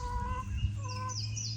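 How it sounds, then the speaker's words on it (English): Chickens cluck and call in a muddy yard, their tonal calls steady and fairly close over a low background hum, with no one speaking. "I guess the chickens are waiting to be fed"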